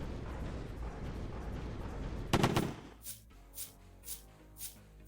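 Rockets launching one after another in a video game: a loud roaring blast with a burst of noise, followed by a series of softer, evenly spaced whooshing bursts as further rockets lift off.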